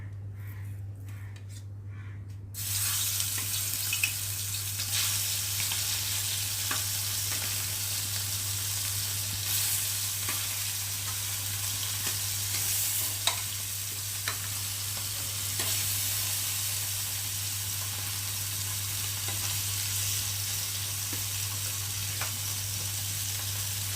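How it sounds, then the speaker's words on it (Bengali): Amodi fish marinated in salt and turmeric frying in hot oil, a steady loud sizzle that swells as the pieces go in and then holds constant, with faint crows cawing in the background. "নুন হলুদ মেখে রাখা মাছগুলোকে দিয়ে একে একে আমি এখন ভেজে নেব"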